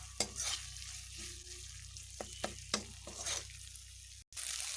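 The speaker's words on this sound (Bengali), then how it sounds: "ভাজা ভেজে ভেজে আমি কষিয়ে নিচ্ছি। মশলা দিয়ে এবার তেল ছাড়তে শুরু করে দিয়েছে" Spice masala for a Bengali kochur mukhi (taro) dish sizzles in oil in a frying pan while a spoon stirs it, a steady soft frying hiss broken by repeated scraping strokes and brief clacks.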